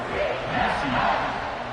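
Crowd noise rumbles through a football stadium just after a score: a steady, dense roar of many voices at a distance, with no single voice standing out.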